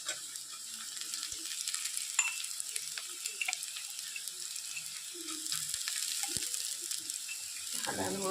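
Onions frying in a pan, browning for a pork dish, with a soft steady sizzle and occasional stirring scrapes, fairly quiet and with no voices over it.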